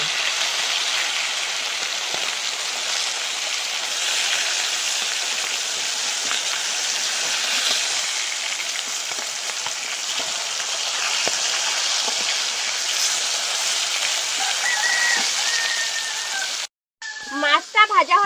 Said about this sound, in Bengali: ভাজা হয়ে গেছে, আর এক পিস ভেজে নেব।